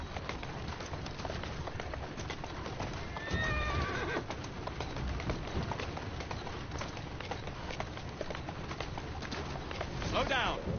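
Steady clip-clop of hooves over a noisy street-like background in the video game Assassin's Creed Syndicate, with a horse whinnying briefly twice.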